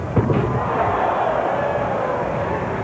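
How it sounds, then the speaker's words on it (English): Arena crowd at the 1991 NBA Slam Dunk Competition, All-Star Weekend, roaring in a sustained wash of cheers and noise after a dunk, with a brief thump at the start. "That's got good response from the crowd."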